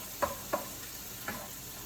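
Ground beef frying in a pan gives a soft, steady sizzle, broken by three light taps or scrapes of stirring within about two seconds.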